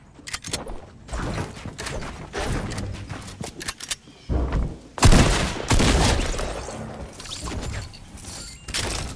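Dense, chaotic gunfire in Fortnite: Battle Royale, with overlapping rapid shots, impacts and a heavy burst midway, loud and continuous with little pause.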